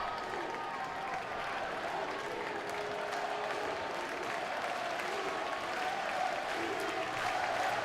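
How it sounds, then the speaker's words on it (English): Baseball crowd at an LSU game applauding and cheering during a full count, a steady wash of clapping and crowd noise heard from a distance for the whole stretch. "Crowd making their presence known once again."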